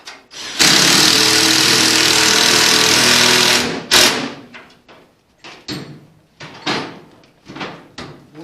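A power drill whirs loudly and steadily for a few seconds, then stops, followed by a series of short clunks and handling knocks.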